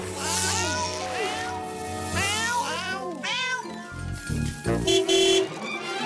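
Several cartoon kittens covered in mud mew in high, rising cries over a bed of music and horn-like tones, with a short burst of louder chatter near the end.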